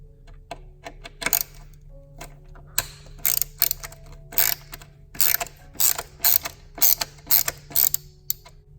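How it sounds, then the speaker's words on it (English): Ratchet with a T25 Torx bit loosening bolts on a BMW N54 blow-off valve adapter, heard as close, crisp clicking in quick repeated bursts with short pauses between them. "To loosen, just gonna take your T25 Torx."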